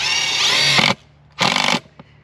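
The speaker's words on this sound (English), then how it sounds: "keep your hands away when you're drilling" A power drill drives screws into wood in two loud, close bursts, a long whir followed by a shorter one, with a brief click near the end.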